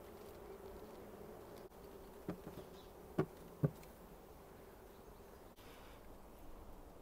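Honeybees buzz faintly around a newly moved hive outdoors, a soft steady insect drone with a couple of brief louder passes close by.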